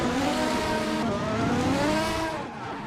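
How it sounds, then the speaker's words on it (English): A race car spins its tires in a burnout at Suzuka in a racing video game, the engine droning and revving steadily under a continuous squealing tire noise, loud and sustained before easing slightly at the end. "a beautiful burnout to get the car spun in the right direction, but the tires have got to be begging for mercy right now"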